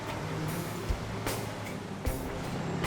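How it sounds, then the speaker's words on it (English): An old work truck's engine idles and runs in a blizzard on a mountain highway, a steady rough low rumble with a few sharp hissing bursts and clanks breaking through, loud and close throughout. "Running like an old truck does."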